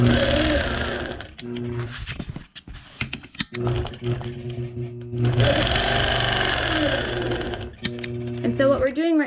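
A sewing machine runs in bursts of rapid stitching as crosshatch quilting lines are sewn through layers of fabric and puffy batting, pausing between runs, while a person talks over it.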